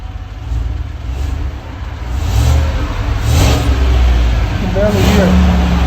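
A 2015 Chevy Tahoe with a 5.3-liter V8 and stock resonator and muffler idles and revs, giving a loud, steady, muted low rumble that swells slightly, heard close up.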